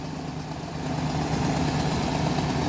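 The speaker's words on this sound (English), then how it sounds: "Sounds like it's bogging down just a hair. The tractor does, but doesn't really sound like the auger's slowing down," Tractor engine running a grain auger, a steady low mechanical drone that grows slightly louder and heavier partway through, as if straining under load, with no talk.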